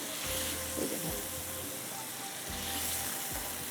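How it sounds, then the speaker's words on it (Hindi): Food sizzles and fries steadily in a pan during home cooking, a continuous hiss with a few brief stirring scrapes, fairly close and with no one talking. "थोड़ा इसको फ्राई करते हैं"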